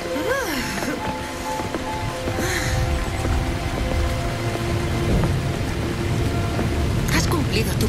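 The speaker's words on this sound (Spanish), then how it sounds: "Oh, lo siento, no esperaba la lluvia." Steady rain pours down with a low rumble of thunder during a rainy outdoor scene in a film. Other film sounds run underneath, and the downpour holds loud and continuous throughout.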